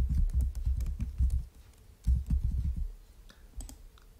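Keys clack on a computer keyboard at a children's coding lesson, in two quick bursts of close, rapid clicks with a short pause between, then a few scattered taps.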